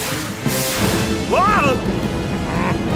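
A cartoon death ray fires in a short swooping, warbling zap that rises and falls over a steady bed of music and noise, with a voice speaking.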